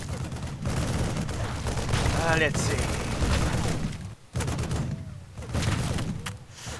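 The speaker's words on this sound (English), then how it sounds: "just a single turret killing the few zombie coming their way there" A turret in StarCraft 2 fires at oncoming zombies in dense bursts of rapid gunfire, with brief lulls between volleys and a voice talking over the shooting.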